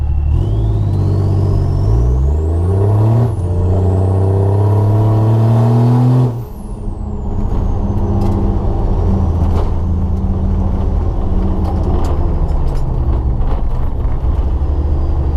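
A Land Rover Defender fitted with an M57 diesel engine drives under load, the engine note rising steadily through the gears with a gearchange midway, then settling into a loud, steady cabin drone and rumble.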